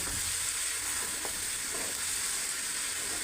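Spices and mutton frying for Kashmiri mutton rogan while being stirred, a dense continuous sizzle with steady hiss and an occasional faint utensil scrape, close and even in loudness throughout.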